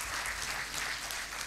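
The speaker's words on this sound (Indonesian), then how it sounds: "Tepuk tangan sekali lagi untuk Prof." A lecture audience claps for a professor after a public talk: soft, continuous applause heard from a distance, steady and even across its short length.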